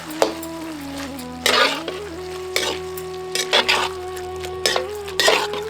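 Mixed vegetables with cauliflower are stirred in a sizzling pan while cooking a vegetable kurma, with repeated scraping, clattering strokes over a steady close frying hiss and no talking.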